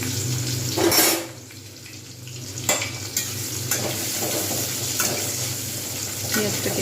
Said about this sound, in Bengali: এখানে যে তেলটা রয়েছে এইটা দিয়ে আমি পেঁয়াজ দিয়ে দেবো।